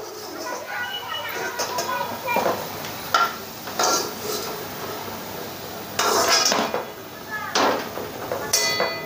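Fried gobi manchurian (cauliflower) is lifted from the pan onto a plate, with repeated clinks and scrapes of a utensil against cookware over a faint background sizzle, and someone speaks intermittently throughout.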